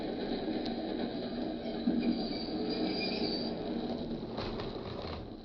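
A train's wheels squeal as it brakes and pulls into a 63rd Street station, a steady metallic screech with low rumble and rattle, loud and close, without voices.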